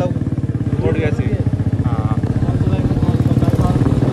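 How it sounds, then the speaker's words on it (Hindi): A motorbike ridden through city traffic chugs with a steady, close, rhythmic engine putter that runs throughout, while voices talk over it. "तो शहर में बाइक चलाना सिखा रहा हूँ बेचारा"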